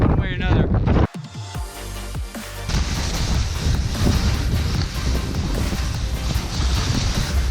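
Strong wind roars steadily past a skier on a Breckenridge, Colorado slope, a loud broadband rush that builds after a brief voice and a few thumps at the start.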